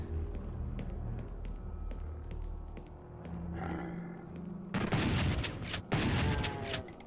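Rocket launcher fire in Doom 64 lands as heavy booming blasts and a roaring rush near the end, following a stretch of dense rumbling game noise and shots.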